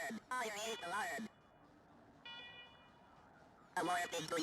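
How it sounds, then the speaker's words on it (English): A fire alarm blares in the video game Wasteland 3, a looping electronic tone heard in short bursts between stretches of quieter ambience, with a synthetic voice speaking over parts of it. "Alarm, alarm, alarm, fire alarm."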